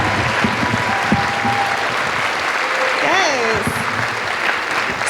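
Sustained audience applause fills a story slam event, dense and steady, with some whoops and voices rising briefly over the clapping.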